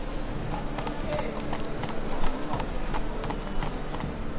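Roach the horse gallops in The Witcher 3, a steady rapid clip-clop of hooves on the ground with game ambience and a voice talking over it.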